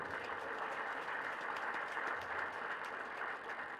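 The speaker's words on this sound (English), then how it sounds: "Please let us clap for him." Audience applause at a heated Nigerian political debate, a steady broadband wash of many hands clapping, fairly faint and distant, with a little talk underneath.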